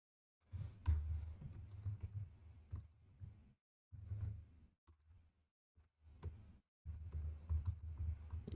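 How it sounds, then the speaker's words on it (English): Quiet bursts of rapid computer keyboard typing, several short runs of clicking keys separated by brief pauses, close and alone. "typing."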